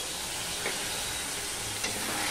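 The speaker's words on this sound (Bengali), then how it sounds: "এখানে আমি এবার কষানোর জন্য একটু জল দিয়ে দিলাম।" Spice paste of cumin and chilli powder for a pointed gourd curry hissing steadily in a hot pan after a splash of water, a continuous close sizzle with a couple of faint knocks.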